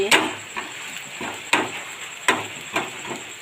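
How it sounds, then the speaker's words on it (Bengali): Onions frying in a pan, with soft sizzling under a few sharp knocks of a utensil against the pan at irregular intervals, fairly close. "এবার পেঁয়াজগুলো একটু ভেজে নিচ্ছি"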